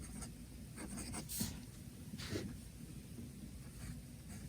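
A medium steel fountain pen nib on a Magna Carta pen scratches softly across paper in several short, quiet strokes, close up in a calm room.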